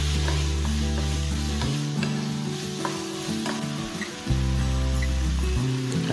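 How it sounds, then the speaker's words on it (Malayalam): Chopped carrots for a jackfruit-seed snack being stirred in a frying pan, a dense steady sizzle with faint scrapes beneath a strong low hum, close and loud, with no one speaking. "നന്നായി ഇളക്കുക"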